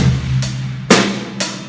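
A pop rock drum groove on an acoustic kit, with kick, snare on two and four and eighth-note hi-hat, heard as three evenly spaced, loud, sharp hits over a low sustained hum, with no voice.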